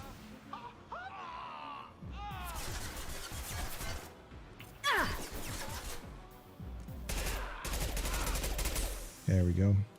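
Gunfire crackles through a firefight in Mass Effect, with bursts of rapid shots and impacts coming in waves alongside other game effects, loud and dense with a few quieter gaps.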